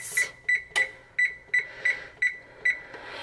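An oven timer being set gives out a string of about eight short, high, clear beeps at an even, quick pace, close and loud, with no voices.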